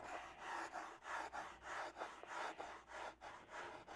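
Rhythmic back-and-forth sanding of a round wooden piece with sandpaper, rolled across the piece, about a dozen even strokes of gritty rasping, close and fairly quiet.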